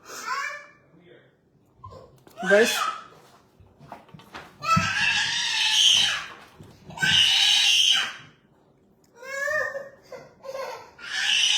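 Children screaming and shrieking indoors in loud bursts, with childish chatter and squeals between the outbursts.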